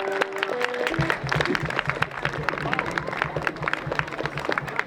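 Crowd applause and cheers for the bassist at an outdoor Levitt AMP concert. Dense clapping continues throughout, and a bass note and a voice briefly sound over it at the start.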